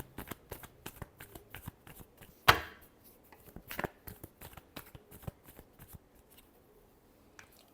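Tarot cards are shuffled by hand during a reading, producing soft, rapid papery flicks and riffles with one sharper slap of the deck. The sound is close and fairly quiet, with no speech.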